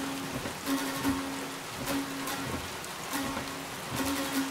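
Rain falling as a film sound effect, a steady close hiss of drops on a surface with soft irregular patters and a faint underlying tone throughout.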